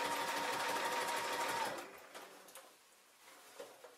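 A sewing machine stitches a bulky jeans hem, starting as a fast, loud, close rhythmic chatter that slows and fades after about two seconds into light mechanical ticks and soft handling noise.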